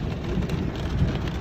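A severe hailstorm pounds Mexico City, producing a dense, continuous roar of hail and rain hitting surfaces, with a steady low rumble underneath and no pauses or voices.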